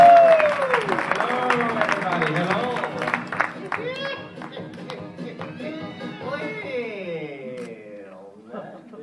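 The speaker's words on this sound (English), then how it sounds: "First time here, give him a big round of applause." A convention audience at an open-mic ventriloquist performance applauds, loud at first and then thinning, while tonal voices and music-like sounds carry over the clapping.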